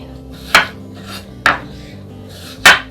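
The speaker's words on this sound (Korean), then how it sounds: "그냥 이렇게 4등분으로 이렇게 잘라주세요" A knife cutting a cucumber into quarters on a cutting board, three sharp separate chops at uneven intervals, close and loud, with faint scraping between them.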